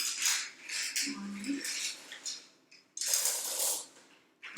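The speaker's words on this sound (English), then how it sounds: "you wanna stir in your jelly beans?" Jelly beans stirred into a bunny bait snack mix, giving scraping, clinking bursts of a utensil against a bowl that come and go, with a louder stretch near the end and a brief low hum in between.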